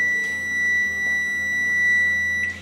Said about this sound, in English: So that's just my alarm letting me know that it's done.